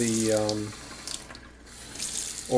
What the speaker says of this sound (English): I'm going to take some hot water and I'm just going to trickle that